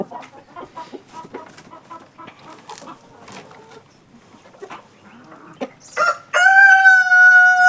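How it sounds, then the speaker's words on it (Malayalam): Laying hens on a poultry farm cluck in short, uneven bursts nearby, then a rooster bursts into a loud, drawn-out crow at the end. "ഇതാണ് നമ്മളെ അടിപൊളി കോഴികൾ കേട്ടോ മുട്ടക്കോഴികൾ"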